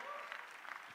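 Audience clapping at a benefit auction, a brief, fairly faint spatter of many hands in a large room, lasting about a second.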